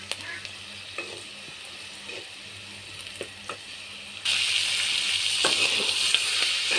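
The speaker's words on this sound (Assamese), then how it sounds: "তেলত অলপ সময় লৰাই তেলতে সিজিব দিছোঁ" Onions frying in hot oil while being stirred, a low sizzle with scraping stir strokes that swells into a louder, bright crackling sizzle partway through.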